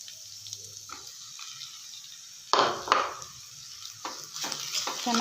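Roasted green chillies fry in a pan while a spoon stirs them, giving soft scraping strokes over a low sizzle, with a few louder clattering stirs toward the middle and end.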